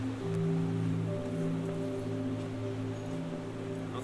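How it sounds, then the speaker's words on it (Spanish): Rushing water of the waterfall at Cañón Blanco in Utuado, Puerto Rico, a steady, soft broadband wash heard at a distance with a low tonal hum running beneath it. "No sé si lo escuchan, pero ahí está el waterfall, tienen que verlo"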